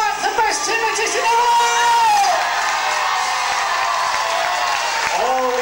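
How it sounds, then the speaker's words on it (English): An audience at a hypnotist's stage show claps and cheers, loud and sustained, with whoops and shouted voices riding over a dense, continuous wall of applause. "Would you please give a great big round of applause to Mark, the best hypnotist in the"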